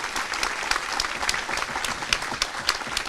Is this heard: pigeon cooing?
no